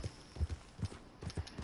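Hoofbeats of a running horse in Red Dead Redemption 2, a quick repeating clip-clop gait, close and moderately quiet with no talk.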